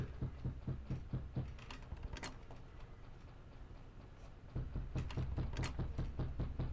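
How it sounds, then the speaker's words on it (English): Repeated banging of a door in the horror video game Cry of Fear, a run of rhythmic thuds at a steady pace that stops midway and then starts again, with some clattering mixed in. "there's just a door that's just banging"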